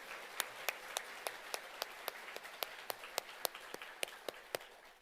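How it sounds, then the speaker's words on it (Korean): Church congregation applause at a Shincheonji Bible assembly in Dongdaemun, Seoul, heard as a fairly slow run of distinct, evenly spaced claps over a soft clapping bed that fades toward the end. "박수 올려드리겠습니다."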